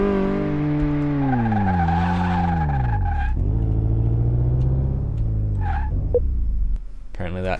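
Simulated car skidding during a brake test in the Car Mechanic Simulator 2018 video game: a loud, steady engine drone falls in pitch as the car slows, with tyre-squeal tones above it, then a brief sharp burst at the end.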